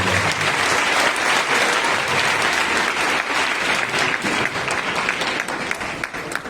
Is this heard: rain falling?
no